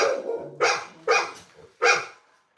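An American Bully, the mother of a litter of puppies, barks three times in sharp, loud bursts evenly spaced, each bark ringing briefly before a short pause, with a low rumble beneath the first.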